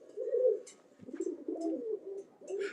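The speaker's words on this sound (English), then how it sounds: "Pretty pigeon, good rollers." Soft, low roller pigeon coos repeat in short rolling phrases, close by and quiet, with faint rustling between calls.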